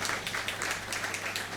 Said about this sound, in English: yes, round of applause there.